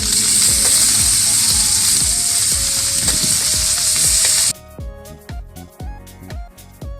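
Garlic sizzles loudly in oil in a pan on a wood-fired village stove, a steady hiss broken by rhythmic scraping stirs, then the frying drops away, leaving sparse clinks and knocks.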